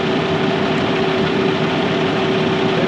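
A diesel engine runs steadily during a forced particulate filter regeneration, a loud, even drone with a constant hum and no changes in pitch, close by with no voices.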